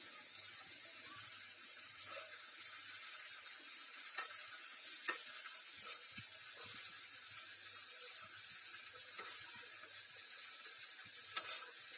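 Bhringraj herbs deep-fry in hair oil with a soft, continuous sizzle and bubbling, heard close and fairly faint, with a few sharp crackles and light stirring noises.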